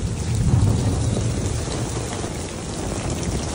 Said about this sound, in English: Our first thunderstorm for the season.